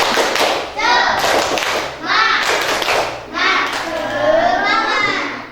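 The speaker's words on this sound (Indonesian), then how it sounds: "untuk menyemangati, tepuk semangat" Schoolchildren in an Islamic lesson performing a rhythmic spirit clap, with bursts of clapping and chanted voices in three loud groups.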